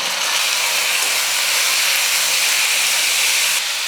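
Loud, continuous sizzling hiss as a large chopped tomato goes into a pan of frying onions, a dense broadband crackle that holds steady for a few seconds with no voice over it.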